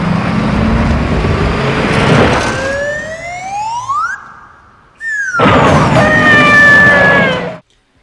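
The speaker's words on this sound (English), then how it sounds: "the slide whistle sound effect still is one of the most infamously bad sounds" A cartoonish slide whistle rises and then falls over a rushing car during a corkscrew stunt, loud and close, with a brief gap between the climbing and descending glides.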